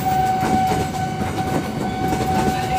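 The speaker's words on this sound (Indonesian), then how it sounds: "mohon maaf kereta api Saung Gali teman-teman" A Saung Gali passenger train rolls past close by with a loud, steady rumble and rhythmic clatter of wheels on rail, while a sustained whistle-like tone rings through the whole passage.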